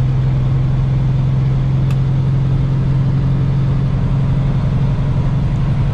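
A heavily loaded semi truck hauling about 45,000 pounds in its trailer drones steadily while working through gears, a loud constant low engine rumble heard from the cab with no talk.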